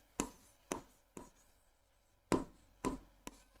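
Marker or chalk strokes on a classroom board during a maths lesson, six distinct scratchy taps and short strokes in an uneven rhythm, close and fairly quiet with no talking.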